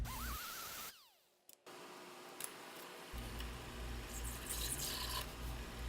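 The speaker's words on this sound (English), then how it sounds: "so I'm just scuffing up the backside." A plaque piece, one of several to be glued down, has its backside scuffed by hand, producing close, uneven rubbing and rasping strokes with a brief pause and small knocks partway through, alone without talk.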